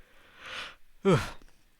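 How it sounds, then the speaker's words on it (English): A single person yawns near the microphone while reading lore for a tabletop role-playing game, a breathy exhale rising into a short voiced, wavering yawn, then quiet. "Damn it with the yawning."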